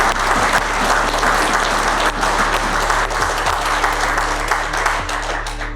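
A crowd applauds steadily at a feeder fishing competition, a dense wash of clapping that carries on throughout at a consistent, fairly loud level.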